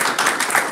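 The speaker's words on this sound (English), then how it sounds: "let's give a big round of applause for distinguished Toastmaster VP," Brief burst of audience applause at a Toastmasters club meeting in Dubai, a dense, steady patter of many hands clapping close by, with no speech over it.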